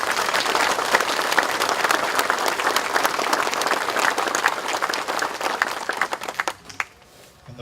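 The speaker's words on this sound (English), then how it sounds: "Let's give them an applause, please." Audience applause at a highway patrol memorial monument dedication, a dense steady clapping from a crowd lasting several seconds before thinning out and fading near the end.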